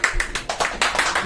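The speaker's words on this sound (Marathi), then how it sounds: "टाळ्या." A short burst of rhythmic clapping at a family birthday gathering, about half a dozen close, bright claps in steady succession.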